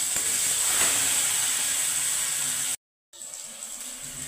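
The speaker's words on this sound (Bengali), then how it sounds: "দেশি আলু দিয়া এগুলো নাড়ছি" Potatoes hiss and sizzle loudly in hot oil with panch phoron and mango, a steady frying crackle broken by a brief drop to silence before quieter sizzling resumes.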